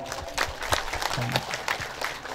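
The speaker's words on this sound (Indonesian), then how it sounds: "Tepuk tangannya Ibu" Audience applause for a student reciting at an Indonesian Islamic boarding school (santri) class, a steady patter of clapping lasting a couple of seconds with a few sharper claps and a faint voice beneath.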